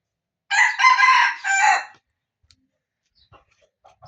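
A single loud rooster crow rings out close by, drawn out over about a second and a half, followed by near silence with faint scattered clicks.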